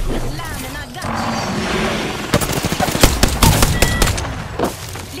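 Rapid bursts of gunfire in Apex Legends ranked play, sharp close shots crackling in quick clusters after a stretch of ambient game noise, with a voice speaking in places.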